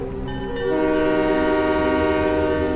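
A train in the Halo 3: ODST video game lets out a loud, sustained horn-like blare as it departs, a rich steady tone that swells after a brief onset and holds without any talking.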